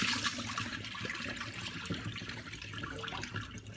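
Starchy water from washed rice drains out of a pot, a close, gurgling trickle and splash that runs unevenly for several seconds.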